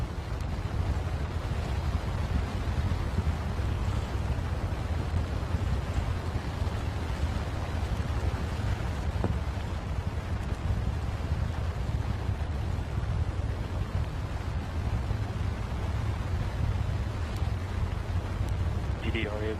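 A NASA Artemis SLS rocket's four engines roar during a static hot fire test: a loud, steady, wind-like low rumble with a broad hiss that runs unbroken from start to finish, with no pauses or changes.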